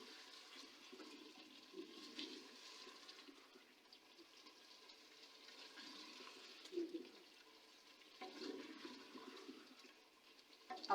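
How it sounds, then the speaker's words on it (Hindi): Water poured from a vessel into a pot of chicken and potato curry, a steady splashing pour with a couple of louder surges, close and alone without talk. "अब इसमें मैं पानी डालूँगी।"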